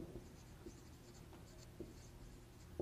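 Marker or chalk writing on a board during an anatomy lesson, faint close scratchy strokes with a few light taps at irregular intervals, quiet with no talk.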